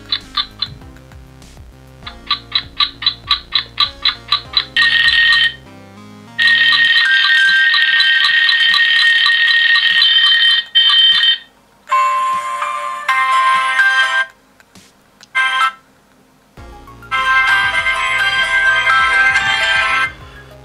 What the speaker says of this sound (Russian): Вот в этом ролике рекламка про KingZone. Звук хороший, громкий,